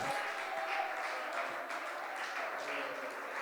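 A church congregation applauds during a sermon, a steady wash of clapping heard at moderate distance and fairly soft, sustained throughout with a faint murmur of voices beneath.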